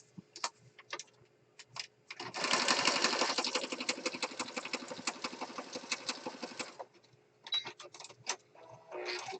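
A sewing machine runs a steady burst of rapid stitching across junk journal paper, loud and continuous for several seconds, with light handling clicks and taps before and after.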